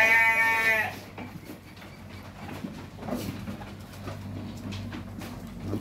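At a sheep farm, a single sheep gives a loud, close bleat at the start, followed by quieter farmyard ambience with faint animal sounds and soft movement.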